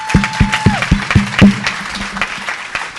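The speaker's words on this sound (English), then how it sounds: "Let's give them a round of applause." Applause from a tech panel audience, with steady clapping rising and then thinning out over about three seconds, alongside a brief voice and a sustained tone at the start.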